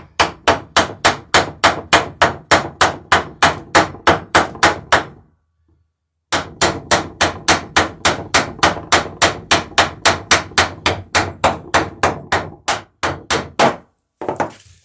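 Steady, rapid hammer blows ring out close by as rivets are hammered against a backing block on a wooden sail and oar boat, a brief pause splitting two long runs of sharp metallic strikes in an even rhythm.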